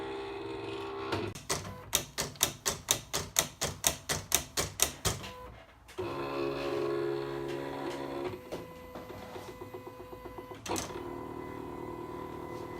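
A Silhouette Cameo vinyl cutter works on a laptop sticker, first a rapid run of about a dozen sharp, evenly spaced mechanical clicks, then a steadier motor whir with shifting tones and a few knocks, close and alone.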